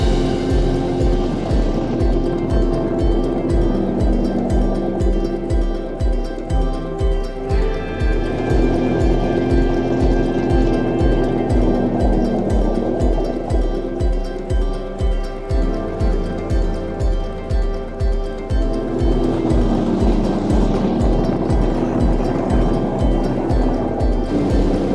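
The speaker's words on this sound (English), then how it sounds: "Pull the Sea-Doos out of the water." Sea-Doo personal watercraft engines churn steadily on the water at Sauble Beach, a loud continuous motor drone with rhythmic pulsing and waves slapping throughout, no voices.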